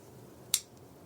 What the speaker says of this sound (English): That is my Rapid River knife that I just pulled out of my pocket, opening up.